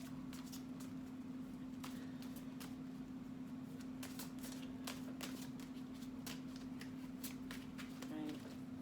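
Cards are shuffled with quick riffling bursts and soft snaps over a steady hum, with occasional light handling noises.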